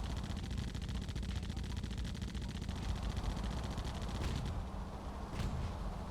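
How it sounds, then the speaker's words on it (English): Continuous rapid gunfire from the boat combat game Blood Wake, a dense rattling stream of shots that holds steady throughout at a moderate level, with a few sharper impacts near the end and no talking. "if you keep using your guns,"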